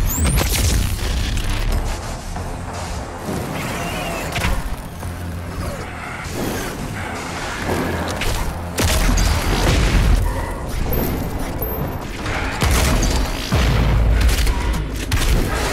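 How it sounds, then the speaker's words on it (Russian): Heavy weapon fire and demon combat in the video game DOOM Eternal, with a BFG shot: dense, loud booming blasts and crashing impacts layered over a constant roar of game action for the whole stretch. "Я только что кучу этих демонов завалил одним выстрелом из БФГ"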